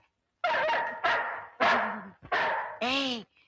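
A dog barks and yelps loudly five times in quick succession, close by, each bark sharp with a whining pitch.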